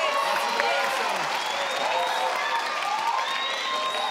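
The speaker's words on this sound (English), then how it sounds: "They're clapping again." Steady applause from a TV game show studio audience fills the whole stretch, with cheering and murmured voices mixed into the clapping.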